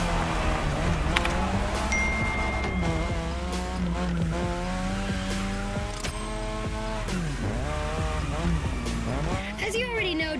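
Car drifting around a drift track in The Crew Motorfest, with a steady loud engine drone whose pitch rises and falls through gear shifts and throttle changes, accompanied by tire squeal, running continuously with speech or music layered throughout.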